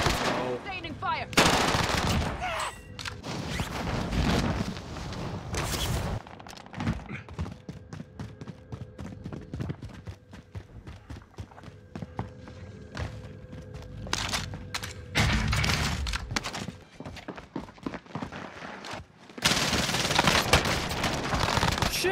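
Bursts of automatic and single-shot gunfire from Warzone, the video game, crack loudly in clustered volleys separated by quieter stretches, while players talk intermittently.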